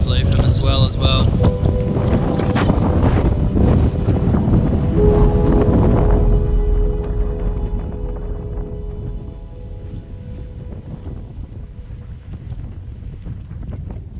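Strong wind buffets the microphone aboard a sailboat off the Fiji coast, a loud roaring rush mixed with water and hull noise that eases somewhat partway through.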